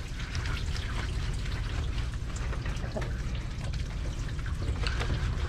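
Water poured steadily over a dog's coat during a bath, a continuous close splashing and trickling with no talk.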